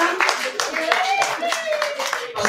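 A live audience at a Pink October event claps in a short burst of applause for a guest, with a voice talking over the clapping throughout.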